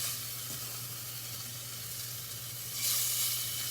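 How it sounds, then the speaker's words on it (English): Short ribs searing in a hot pan give a steady, close sizzle and hiss throughout, swelling brighter and louder near the end, with no one talking. "You want this to get nicely seared on all sides"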